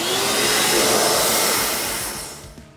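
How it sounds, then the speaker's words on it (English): A vacuum cleaner with a brush attachment runs at a loud, steady whine while cleaning a sanded engine case for a Yamaha Raptor 660, then winds down toward the end. "every surface that I do, I go over with the vacuum, with the brush"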